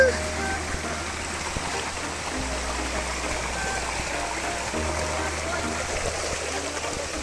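Waterfall and stream at a hidden spot in Agno, Pangasinan, a constant dense rush of flowing water filling the background, moderately loud and unbroken, with people talking over it.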